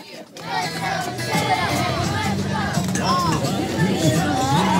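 A recorded crowd at a Sesame Place show, yelling and cheering in a dense, continuous roar of many voices, loud and sustained throughout with no pauses.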